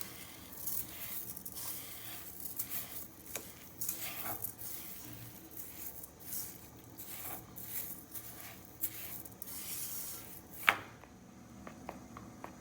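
Puran modak filling is stirred in a pan over a low flame: soft repeated scraping and sticky, squishy pats of a spoon against the pan at close range, with one sharper knock near the end.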